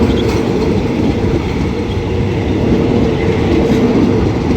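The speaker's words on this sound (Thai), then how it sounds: "ก็ได้เวลาปล่อยขบวนรถ เร็วที่ 142 แล้วนะครับผมออกจากสถานีรถไฟ" An express train departs a station in Thailand, rolling steadily with a low, continuous rumble and clatter of wheels, loud and close, no voices.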